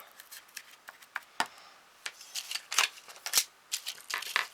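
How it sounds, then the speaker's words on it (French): Quiet, crisp snips and rustles of scissors cutting paper, irregular and close, interspersed with light handling sounds and no talking. "Ma petite paire de ciseaux."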